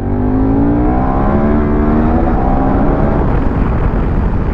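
A 2013 KTM 1190 Adventure motorcycle with a 150 hp engine accelerating hard, loud and close, its rising engine note climbing steadily with a strong rough low rumble and no talk.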